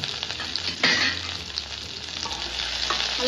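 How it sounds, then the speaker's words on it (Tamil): Sliced onions and two large green chillies sauté in a pan for a tomato thokku, giving a steady, close, dense sizzle and crackle with a brief stirring scrape and no voices. "நல்லா வதக்கிக்கோங்க."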